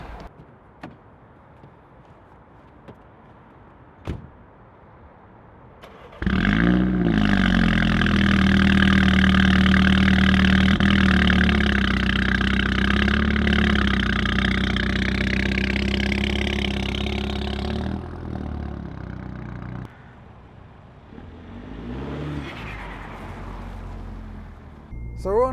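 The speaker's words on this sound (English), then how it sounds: "this car with its Remus catback isn't exactly subtle on cold startup" A Mini JCW Clubman with a Remus catback exhaust fires up on a cold start after a few clicks and a door thunk, settling into a loud, raspy high idle that drops lower before fading into quieter rustling.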